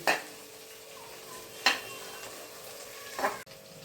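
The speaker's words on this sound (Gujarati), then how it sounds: "લીલા મરચાંને બરાબર સાંતળી દઈએ" Green chillies and onion sauté in an oiled pan, a soft steady sizzle broken by three distinct scraping stirs of a spoon against the pan.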